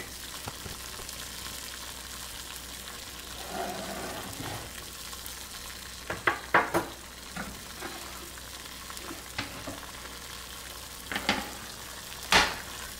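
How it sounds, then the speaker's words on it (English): Quiet bubbling and sizzling from a pot on the stove, with soft irregular pops and occasional louder bursts, no voices. "The pot with the water boiling."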